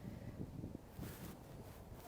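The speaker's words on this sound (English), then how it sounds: "I'm going to face the wind." Outdoor wind buffets a microphone in the Luxembourg garden beside the French Senate in Paris, a low, continuous rumbling roar that swells and eases in gusts, faint and alone with no voices.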